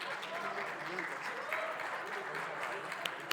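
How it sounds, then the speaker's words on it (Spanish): An audience applauds warmly to welcome a panelist at a climate leadership and sustainability forum, a dense, even wash of many hands clapping throughout, with a voice speaking faintly over it. "a quien también recibimos con un cálido aplauso"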